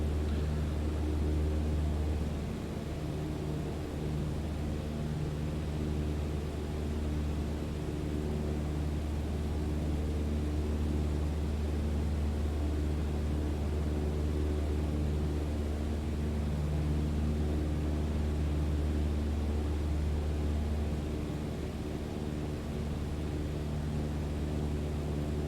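Steady aircraft engine drone inside Microsoft Flight Simulator, a constant low hum running unbroken and fairly loud for the whole stretch, with no talking over it.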